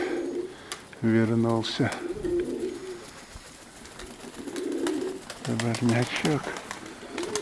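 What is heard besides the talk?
pigeons cooing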